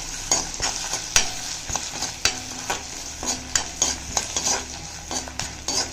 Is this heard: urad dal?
yes